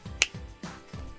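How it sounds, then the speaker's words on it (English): A few crisp finger snaps in quick succession, close and fairly quiet, each a short sharp click over a low background. "a Nintendo Switch finger snap"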